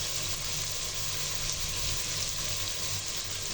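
Cabbage and green chilies fry over high heat in a pan, giving a constant, fairly faint sizzling hiss with no pauses throughout.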